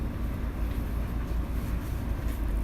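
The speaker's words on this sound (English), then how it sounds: "this locomotive can go over dead zones with almost no problem" A model train locomotive rolls steadily over layout track through dead zones, giving a continuous close rumbling hum with faint clattering, no talk.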